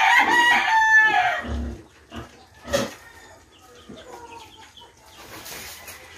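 A farmyard of hens and a rooster, with the rooster crowing loudly up front, followed by scattered clucks and soft calls from the flock at moderate distance.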